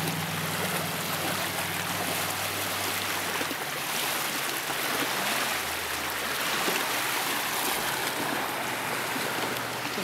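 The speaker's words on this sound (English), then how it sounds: "Hear that wake coming in from a boat that just went by some time ago." Boat wake waves wash onto the shore of a small willow-lined reservoir bay in the Allegheny National Forest, a steady soft rushing and lapping that continues alone with no voices.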